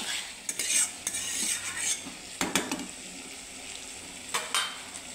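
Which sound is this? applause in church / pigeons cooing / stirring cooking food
stirring cooking food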